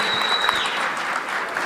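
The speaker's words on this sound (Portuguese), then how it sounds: "Uma salva de palmas pro Diego." An audience applauds in a steady, dense wash of clapping that holds at an even level throughout, moderately loud and close.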